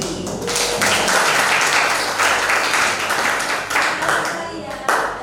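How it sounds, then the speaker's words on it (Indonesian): Classroom applause after a group presentation on batik in an arts and culture teaching practicum, close, lively clapping that continues steadily with a voice speaking over it. "sekali lagi tepuk tangan lagi"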